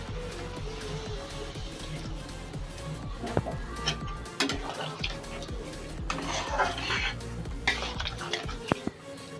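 Okra stirred with water in a cooking pan, with irregular scraping, clanking and knocking of a utensil against the metal pan, close by over a low background hum.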